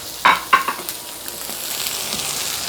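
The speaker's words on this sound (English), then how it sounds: "I'm just gonna throw these on. Griddle's already kind of on a medium-high heat." Halibut pieces dropped onto a medium-high griddle with avocado oil, two sharp hits then a soft steady sizzle close by, no talk.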